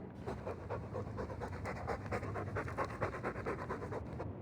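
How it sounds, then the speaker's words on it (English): A dog pants rapidly and steadily up close in the video game Dragon Age 2, quick rhythmic breaths continuing without pause. "All that noisy dog breath,"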